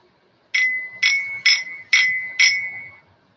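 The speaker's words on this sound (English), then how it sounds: "Those chimes were a little ragged." Chimes ring close to a railway track, five evenly spaced bright, ringing strikes about half a second apart, each decaying quickly, alone and fairly near.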